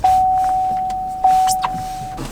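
Electronics of a 2018 Cadillac XT5 power up, giving a steady electronic tone that holds throughout with a couple of brief chimes or clicks layered over it, close and fairly loud.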